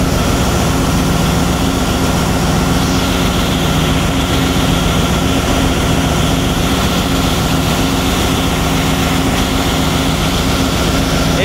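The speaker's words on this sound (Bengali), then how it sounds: "চলে আসলাম শুভরাজ 9 লঞ্চের ইঞ্জিন রুমে।" A passenger launch's engine thunders steadily in its engine room on the Barisal to Dhaka river route. The roar is loud and close, an unbroken, heavy mechanical drone with no talk.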